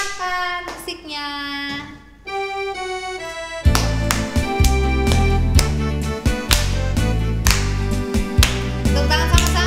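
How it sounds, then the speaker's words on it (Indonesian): Children at a Sunday school session clap along to a song, rhythmic hand claps riding over loud accompaniment with a strong beat, a voice audible near the start. "Tepuk tangan sama-sama ya."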